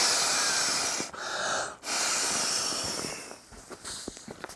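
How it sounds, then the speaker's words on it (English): Two long breaths blow forcefully into the mouth inflator of an inflatable camping pillow, each a loud close whooshing rush with a brief pause between, followed by quieter rustling and handling. "it also has this inflator here that you use by mouth, and it only takes about 2 breaths to blow it up"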